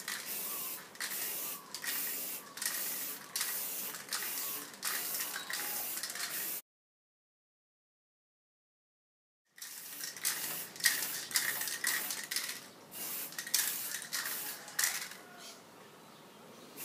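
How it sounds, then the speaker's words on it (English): Rapid bursts of an aerosol spray paint can hissing over PVC bow limbs, long runs of short pulsed sprays, then a silent gap before the spraying resumes. "now I'm just going to paint it with some spray paint"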